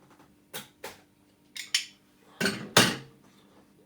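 A spoon or utensil knocks and scrapes against a cooking pot while ingredients are stirred in a Caribbean recipe, giving about six separate metallic clanks, close and clear, growing louder toward the end.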